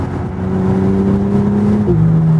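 A BMW G80 M3's engine drones loudly and steadily under acceleration, then its pitch drops sharply near the end as the transmission snaps through a quick gear change. No one speaks.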